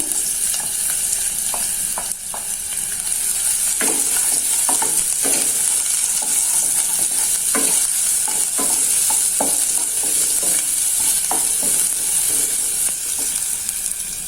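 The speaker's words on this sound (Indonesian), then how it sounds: "Ini untuk bawang merahnya saya tumis dulu." Shallots stir-frying in hot oil in a pan, a continuous loud hiss of sizzling broken by frequent scraping clicks of a utensil stirring.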